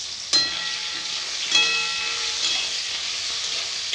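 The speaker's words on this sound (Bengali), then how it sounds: "তেল গরম হয়ে গেছে, ট্যাংরা মাছগুলো ভেজে নেব।" Tangra fish dropped into hot oil in a wok give a loud burst of hissing sizzle, then a second splash-like surge, settling into a steady, close frying hiss with no talking.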